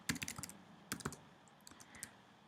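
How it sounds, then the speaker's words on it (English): Computer keyboard keys clicked during template work in Boardmaker Online, a quick run of crisp taps at the start, a pair of firmer presses around the middle, then lighter scattered clicks, close and fairly quiet. "Push enter on my keyboard"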